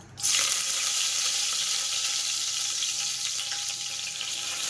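Curry leaves hit hot oil in a preheated pressure cooker, bursting into a loud, steady sizzle that starts abruptly and holds continuously, close up, while dal khichdi is being made.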